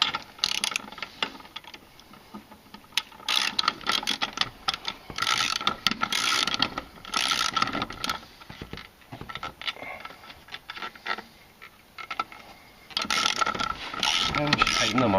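Ratcheting clicks in repeated bursts while wheel spacer nuts are tightened on a 2004 Polaris Sportsman 500 ATV, close and fairly loud with brief pauses between runs of clicks.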